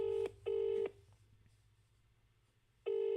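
An outgoing phone call to a casino rings on the line: a loud double burst of ringback tone, then a quiet pause with faint hum, then the tone starts again.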